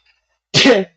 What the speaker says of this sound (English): all of a sudden it's like I gotta sneeze